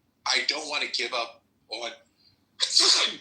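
A single loud, close sneeze bursts out after a stretch of someone talking, standing clear of the speech.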